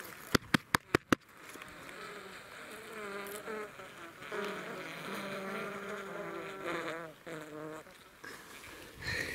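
After four sharp knocks on a tree trunk, a wild bee colony overwintering inside the hollow tree answers with a swelling, wavering hum that rises and fades in waves, muffled and faint, with some quiet talk nearby.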